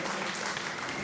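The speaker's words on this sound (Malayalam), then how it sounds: "സൂപ്പറായില്ലെങ്കിലും എല്ലാവരും കൈയടിക്കുക" An audience at an audio launch event applauds, a dense, even wash of many hands clapping at once, continuous and moderately loud for a moment.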